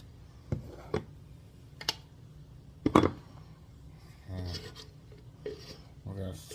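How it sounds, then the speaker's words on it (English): A utensil scrapes minestrone sauce out of a Nutribullet blender cup, with a few sharp knocks and clicks against the container and short bursts of scraping, close by and fairly quiet, with no voices. "We're going to scrape out our sauce."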